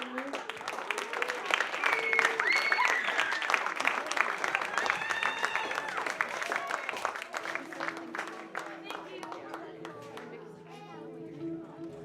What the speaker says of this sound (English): Let's give another huge round of applause for our amazing STEAM Symposium participants.